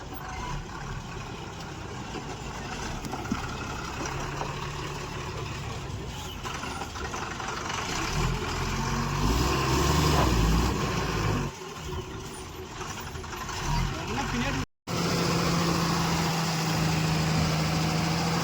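A tipper truck's engine idles steadily while a load of soil is unloaded, a continuous low rumble with shifting mechanical noise and a brief hiss of air near the end.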